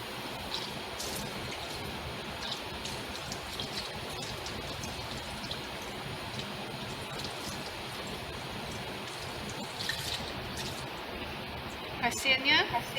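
Washing with water and ReWasCO soap gives a steady, soft splashing and trickling wash of water, continuous and fairly faint, with a few louder splashes near the end.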